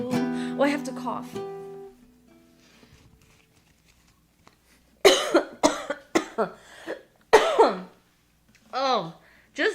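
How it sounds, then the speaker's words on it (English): A singer-songwriter in a recording session breaks off singing and coughs several times in sharp, close bursts, clearing her throat between them; sung notes come first and her voice returns at the end. "Oh, I have to cough."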